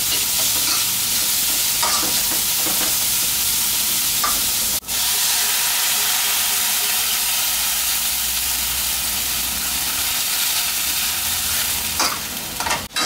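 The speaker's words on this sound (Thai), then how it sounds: "เดี๋ยวเราจะเติมน้ำลงไปนะครับเพื่อนวดให้ขิงเขานิ่มนะฮะ" Water added to ginger frying in a pan for a stir-fried sea bass dish with celery, producing a loud, continuous steaming hiss and sizzle with occasional stirring clinks.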